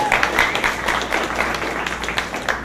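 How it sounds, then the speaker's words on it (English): An audience claps steadily for a volunteer coming up on stage at a neuroscience talk: dense, even applause from a room full of people, with no voices over it. "give Emery a round of"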